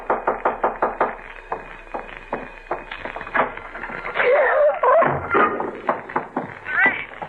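Several sharp knocks on a door in a vintage radio horror drama, a quick run of raps repeated in clusters, fairly close and loud, interleaved with voices speaking.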